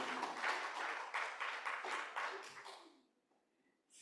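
Applause from a conference audience as a professor is welcomed to the stage, a moderate burst of steady clapping for about three seconds that stops abruptly, leaving near silence.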